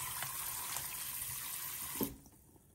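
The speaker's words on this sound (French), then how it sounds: "Donc là, je vais faire un rinçage en profondeur." Running water from a kitchen tap rinses raw chicken thighs in a sink, a steady splashing hiss that continues for about two seconds and then cuts off abruptly as the flow stops.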